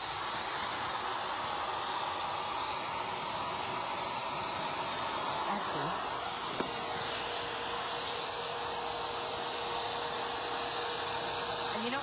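A Wagner Home Decor paint sprayer spraying paint onto fabric gives a steady, close, loud airy hiss that runs unbroken throughout, with a few faint background knocks.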